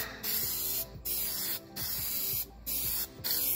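Plasti Dip rubber coating sprays from an aerosol can onto a car bumper in five loud, close bursts of steady hiss with brief pauses between them, and no voices.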